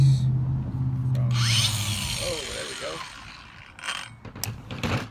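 A Kobalt 24V battery pack unlatches and slides off a cordless tool with a few sharp plastic clicks and scrapes, close by and fairly loud against a low background hum.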